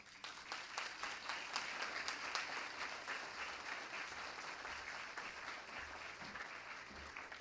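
Sustained applause from an audience at a scholarship awards event, many hands clapping in a dense, even wash that holds steady for several seconds at moderate loudness.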